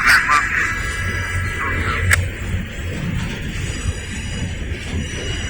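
Norfolk Southern intermodal freight train rolling past on a connector track, heard as a steady rumbling roar of cars and wheels with a brief squealing tone at the start and a sharp clank, continuous and fairly close.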